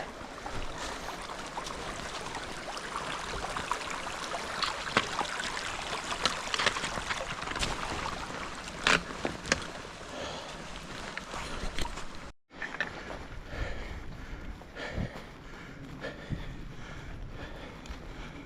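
Hikers wade through a creek on a trail crossing on the route from Amicalola Falls toward Stover Creek Shelter, with steady splashing and trickling water near the microphone, a brief break midway, then softer wading.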